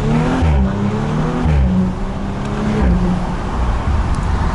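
A supercar at a mountain event revs its engine and exhaust hard and loud nearby, with a sustained roar that rises and falls through several throttle blips.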